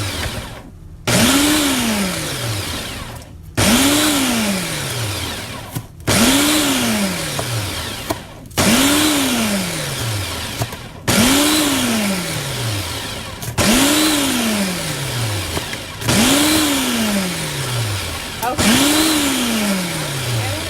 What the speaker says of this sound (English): In my food processor, I'm just going to chop up everything for my rice and peas real quick.